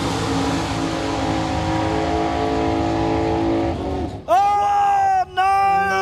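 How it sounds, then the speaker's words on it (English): A nitrous small-block drag race car roars at close range through a steady, loud engine drone, then revs hard into a harsh, rising whine that cuts briefly before resuming. "Now he's racing the nitrous small block off Mark Peters."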